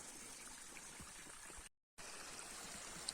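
Water runs down through a hose into a bucket in a micro hydro setup, a soft steady gurgling flow that is faint and continuous, cut by a brief gap of silence midway.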